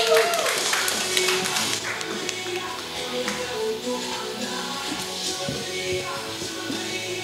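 A studio audience claps together in a broadband patter of hand claps that fades somewhat over the span, with voices talking over it at a football talk show.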